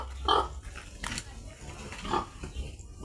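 A small pig, a piglet, gives a few short, snuffling grunts at close range in a quiet farmyard, with brief pauses between them and faint background noise.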